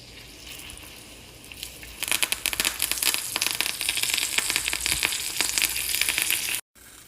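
A lettuce and cheese wrap laid onto a hot pan starts frying with a sudden loud sizzle and crackle, which then holds steady and close with no voices, and cuts off abruptly near the end.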